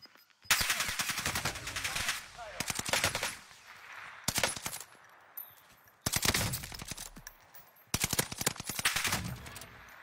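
Video game gunfire in long automatic bursts, loud, sharp and close, repeating in several volleys separated by short pauses, with a faint voice in the background.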